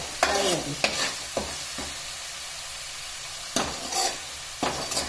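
Garlic fries in a pan for garlic rasam, a steady close sizzle broken by several sharp spatula scrapes and stirring knocks, two near the start and a cluster toward the end.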